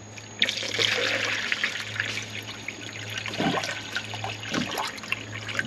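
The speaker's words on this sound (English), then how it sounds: "I'm going to put some water in this and see where it comes out." Water trickles and pours steadily into a car's cooling system nearby, with a low constant hum of machinery underneath.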